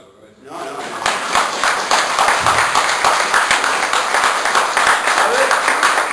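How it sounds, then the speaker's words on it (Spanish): An audience at a talk on Don Quixote breaks into applause, a dense, sustained clapping that swells quickly and continues steadily for several seconds. "primero un aplauso"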